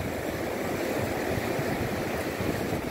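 Ocean surf rolling onto Mnandi Beach, a steady broadband wash of waves with a faint breezy hiss, continuous and fairly close, with no voices.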